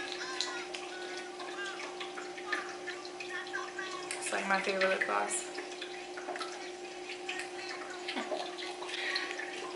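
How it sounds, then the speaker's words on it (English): Constant rushing water from a waterfall fills the background while a person talks over it, with occasional drip-like splashes. "Y'all hear the waterfall, I'm sure."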